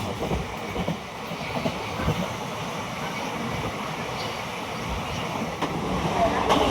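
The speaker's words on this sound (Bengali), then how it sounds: "চুঁচুড়া পার করছে আমাদের ট্রেন।" Interior of the 13027 Howrah–Azimganj Kaviguru Express running on rails, a steady low rumble with rhythmic wheel clatter and occasional faint voices in the carriage.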